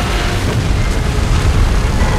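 A beam blast from a giant monster in the Titans video game roars as a loud, sustained, dense rumble that fills the whole moment.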